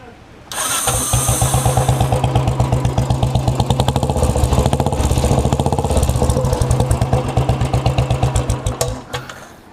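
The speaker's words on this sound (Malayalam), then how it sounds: "ആദ്യമായിട്ട് ഇതിൻ്റെ ഈ ഒരു സൈലൻസറിൻ്റെ എക്സോസ്റ്റ് നോട്ട് ഞാൻ കേൾപ്പിച്ചു തരാം." A Royal Enfield motorcycle starts up and idles through its stock silencer, producing a loud, close, steady thumping exhaust beat that quickens briefly with a blip of the throttle, then slows and uneven pulses fade out as the engine shuts off.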